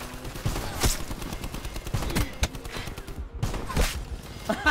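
Shotgun blasts from the Argus in Black Ops 4, several sharp booming shots spaced irregularly amid ongoing game noise at close range.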